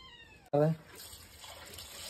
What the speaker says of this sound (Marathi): बघा माऊ पण आली वासाने लगेच